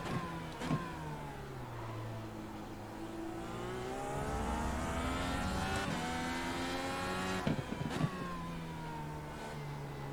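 IndyCar engine in the iRacing sim game at Road America, revving with push-to-pass turbo boost: a high, harmonic-rich engine note rising and falling through gear changes, with brief sharp blips around shifts, loud and continuous.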